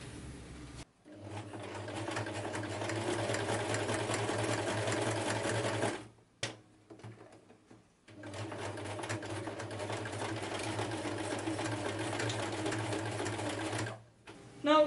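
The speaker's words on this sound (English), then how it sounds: "Well, let's sew this together." A sewing machine runs in long steady stitching bursts, stitching a strip of elastic into a circle for leather LARP armour. It stops twice, with a short pause near the middle and a stop near the end.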